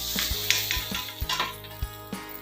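Fish fry in hot oil in a pan, a steady sizzle broken by several sharp knocks and scrapes of a utensil against the pan, close and fairly loud, with no voices.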